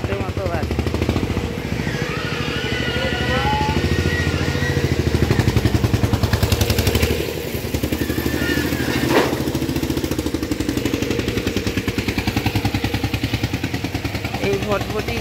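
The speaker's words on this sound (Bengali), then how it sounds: "এই ভটভটি গাড়িগুলো এত আওয়াজ" Noisy motorcycles pass by on a street, their engines putting out a rapid, pulsing putter that rises loud and close around the middle before easing back to a steady rattle, with voices faintly present.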